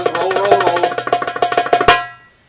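Darbuka continuous roll: a rapid, unbroken stream of drum strokes with no gaps, ending in a sharper accented hit and a brief ringing decay.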